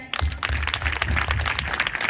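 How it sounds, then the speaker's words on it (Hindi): A church congregation claps during Pastor Stella's Hindi sermon, a dense, fairly loud burst of many hands beginning abruptly and sustained throughout, with faint voices mixed in. "ताली बजाए।"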